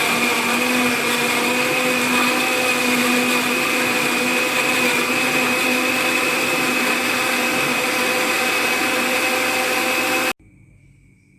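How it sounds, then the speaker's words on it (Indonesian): A blender whirs steadily as it purees an herbal remedy for hypertension, a loud continuous motor drone that runs for about ten seconds before cutting off into quiet. "lebih bagus kita lakukan blender."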